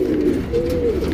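Close, steady cooing from a pigeon in a bonded tournament pair, a continuous low throaty coo with no other sounds.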